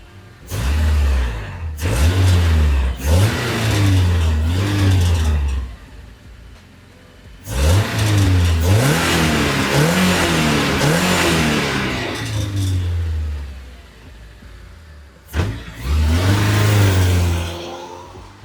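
A Porsche 911 fitted with a Honda K24 engine idles and revs, with several rising and falling throttle blips spread across the stretch, loud and close, with short dips back to a steady idle between them.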